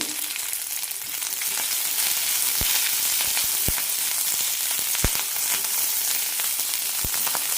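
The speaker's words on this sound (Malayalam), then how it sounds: "ഇനി ഇതിലേക്ക് ചെറുതായി മുറിച്ച് ഇഞ്ചി വെളുത്തുള്ളി ഇടാം പച്ചമുളക് കറിവേപ്പില നന്നായി ഒന്ന് വഴറ്റിയെടുക്കാം" Chopped ginger, garlic, green chili and curry leaves sauté in hot oil for an onion kurma, a steady close sizzle throughout, broken by a few sharp spatula taps against the pan.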